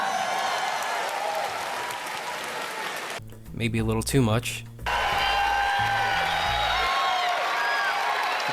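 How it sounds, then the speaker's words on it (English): A large audience at the Bethesda E3 2019 show applauding and cheering in a steady roar, briefly broken by a spoken line before the crowd noise resumes at full strength. "The crowd is just so mindlessly, just blindly cheering for every single thing that comes out of these people's mouth"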